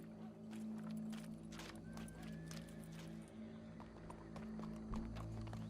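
Horse hooves clip-clopping at a steady walking rhythm in Red Dead Redemption 2, close and moderately loud over a low ambient hum, with a brief whinny-like tone.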